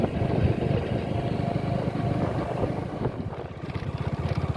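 Motorcycle engine rumbling steadily while riding slowly over a rough, broken road, a continuous low drone with rattling texture and some wind, close and fairly loud, no talk.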